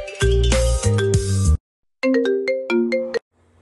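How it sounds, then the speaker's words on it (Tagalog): A melodic ringtone made from an MP3 converted from an MP4 plays loudly in two bursts of bright, stepping tones, with a short silent gap between them and a faint tail at the end. "So pwede na natin siyang gawing ringtone."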